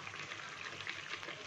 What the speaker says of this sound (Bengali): আমার চিকেনটা এখানে কষা হচ্ছে।